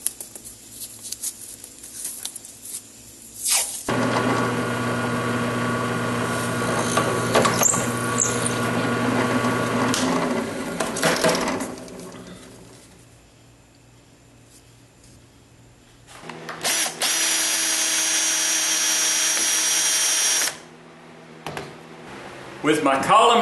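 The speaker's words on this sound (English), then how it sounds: "we'll go over to the drill press and we'll drill all of these required holes" A drill press bores a series of holes in wood, its motor whirring in long steady runs broken by quieter gaps and clatter between cuts, close and fairly loud.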